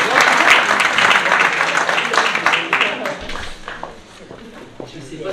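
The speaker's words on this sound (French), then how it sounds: "On peut les applaudir aussi." Audience applause at a town public meeting for council members in charge of education, childhood and youth, many hands clapping loudly, then thinning and fading toward the end with some shuffling.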